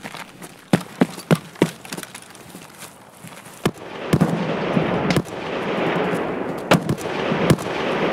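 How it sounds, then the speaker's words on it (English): Gunfire in a shooting video game: a string of sharp, loud single shots early on, then denser bursts of rapid fire over a rumbling background, with several more heavy reports near the end. "they're shooting at us"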